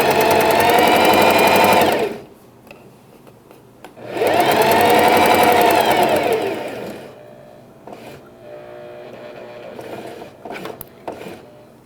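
A sewing machine stitches a straight seam on a pet bandana in two loud, steady bursts of whirring, separated by pauses, followed by lighter clicks and taps of the mechanism.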